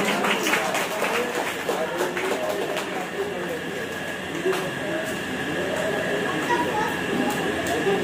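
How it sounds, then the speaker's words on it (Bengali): Audience clapping at a Bengali community cultural program, the Kabipranam event held by the Milan Palli Unnayan Sangha club in 2025. The dense, steady applause runs throughout the clip with a voice talking over it. "একটু জোরে হাততালি সবাই।"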